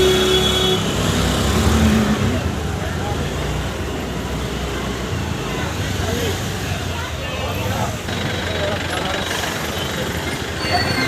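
Dense road traffic around a fair in the rain: a steady rumble of idling and slow-moving vehicles, nearby and continuous, with crowd babble and people talking close by.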